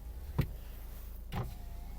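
A Dacia Duster 1.5 dCi's electric windows run in two short whirring bursts, each a brief motor hum a second apart, close and fairly quiet inside the cabin.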